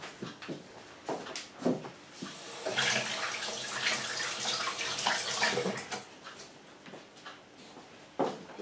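Water runs from a tap in a steady splashing stream for several seconds, close and moderately loud, framed by brief knocks and handling clatter before and after.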